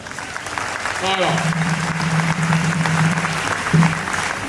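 A church congregation at a 2021 synod in Congo-Brazzaville claps in a dense, sustained wash of applause, with a speaker's voice rising over it and a brief spoken word near the end.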